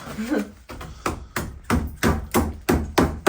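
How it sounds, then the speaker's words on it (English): Repeated sharp hammer blows knocking old render and plaster off bricks, about ten strikes in a loose steady rhythm, close and loud, with some talking mixed in at the start. "I'm just removing all this old render and plaster from these bricks so that we can reuse them."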